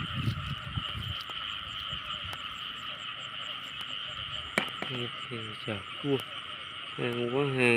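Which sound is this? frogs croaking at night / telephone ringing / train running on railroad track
frogs croaking at night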